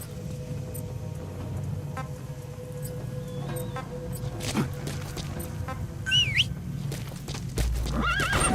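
A horse in Metal Gear Solid V: The Phantom Pain lets out whinnies and snorts, with hooves clip-clopping and shuffling over quiet game ambience.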